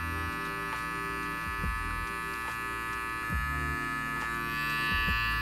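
An electric hair clipper hums steadily at close range while cutting a taper fade, its motor buzz constant with slight shifts in pitch and loudness as the blade corners work through the hair, with no talking.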